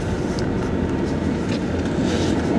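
Loud, steady rushing wind roar through a partly open window fills the cabin of a 2002 Chevy Malibu, a constant broadband whoosh with road rumble beneath, no talking.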